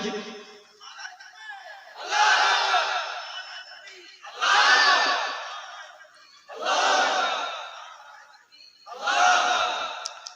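A crowd at a religious gathering roars a takbir chant in four loud surging waves, each swelling and fading with brief pauses between them, many voices shouting together.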